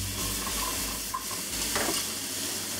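Chicken and zucchini sizzle steadily in a hot pan during a stir-fry, with a constant close crackle and a brief louder burst as food is tossed.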